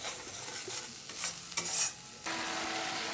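Spice paste fries in a pan with splashes of water, the spoon stirring and scraping through a steady sizzle that flares brightly midway and settles into a continuous hiss, with no voices.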